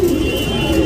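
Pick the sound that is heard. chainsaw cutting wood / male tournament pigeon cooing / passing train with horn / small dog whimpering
male tournament pigeon cooing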